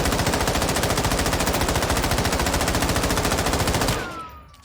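Rapid automatic gunfire at the firing range in Warzone 2.0, a fast, even burst of loud close shots lasting several seconds that stops abruptly and leaves a short decaying tail.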